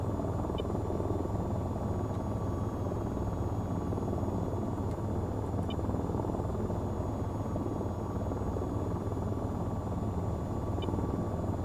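An AH-94 attack helicopter flies in the VTOL VR game, its rotor and engine drone holding steady and loud for the whole stretch, with faint high ticks now and then and no voices.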